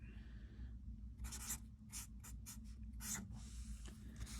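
Pen strokes scratch across paper while calculus equations are written by hand, a run of short quick scribbles and dashes, close but quiet over a low steady hum, with no speech.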